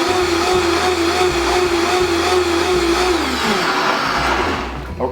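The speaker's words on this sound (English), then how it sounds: "I'll hit that with the blender." A blender whirs steadily at close range, grinding hot peppers and black pepper for cider, its motor drone holding a constant pitch before winding down near the end.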